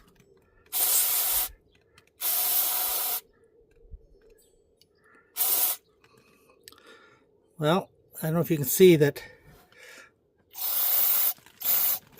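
Cleaner sprays in short bursts into the mass air flow sensor of a 2018 L5P Duramax, four loud close hissing blasts broken up by someone talking briefly in the middle.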